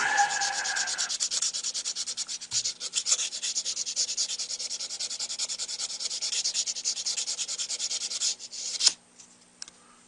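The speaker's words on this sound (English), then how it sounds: "you can use your sanding sticks if you have them. That might be a little coarse first grit" A sanding stick rasps steadily against a tip being closed, in fast continuous back-and-forth strokes, loud and close, then it stops abruptly near the end, leaving a few faint handling taps.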